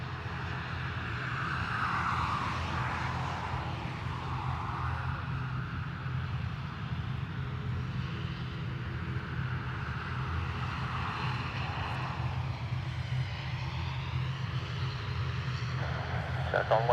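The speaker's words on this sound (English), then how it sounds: "ATR to the Isle of Man. Another ATR to Manchester sitting behind." An ATR turboprop airliner at Dublin Airport drones steadily at a distance, a sustained low engine roar and rumble holding throughout with faint air-traffic radio chatter in the background.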